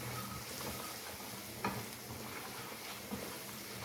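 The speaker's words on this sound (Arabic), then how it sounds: "انا بس محتاجه اشوحها بس. الثوم بتاعي اهو بتاع الدقه" Crushed garlic (daqqa) for Egyptian koshari is stirred and gently sautéed in a pan with salt, a soft, even hiss with a couple of faint utensil taps, quiet and without speech.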